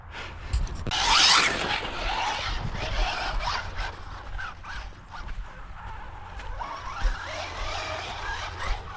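A 1/16 scale Mini Maxx RC truck on JConcepts tires drives and lands outdoors, with whirring motor, scuffing and rubbing over uneven ground, and a brief louder burst early on.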